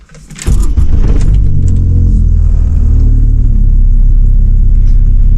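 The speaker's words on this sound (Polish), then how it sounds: "Czekam aż mi się silnik chwilę zagrzeje." A car engine starts up and settles into a loud, steady idle while warming up before dawn, with a brief burst of higher-pitched noise at ignition followed by an even low rumble held close and alone.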